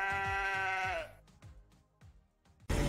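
Moroccan goats bleat in a long, loud, wavering cry, followed by several shorter bleats, heard up close and alone.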